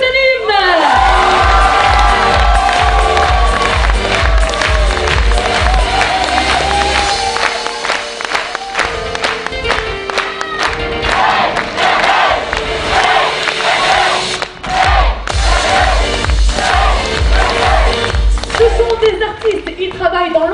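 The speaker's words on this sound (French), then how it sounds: "Un tonnerre d'applaudissements pour toute l'équipe des Coach Anime." At a stage show in Millau in December 2012, a large crowd erupts in loud cheering, shouts and clapping for the animation coach team, with voices calling out over the ovation throughout.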